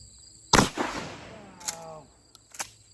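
Shotgun loaded with buckshot fires one loud, sharp blast outdoors at close range, followed by a short rolling echo and a couple of fainter clicks and thumps.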